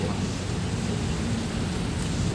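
Rain falling steadily in Bangkok, a dense continuous wash of hiss with a low rumble underneath, no voices.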